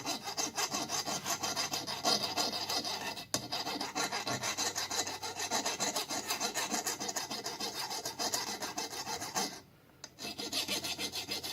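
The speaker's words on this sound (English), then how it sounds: "spin the valve while I'm filing on it to get rid of that little burr, so to go down through the guide real well" A fine metal file rasps a burr off an engine valve from an old Chevrolet C-10 as the valve is spun, giving a steady, dense scraping that runs almost nonstop with one brief pause near the end.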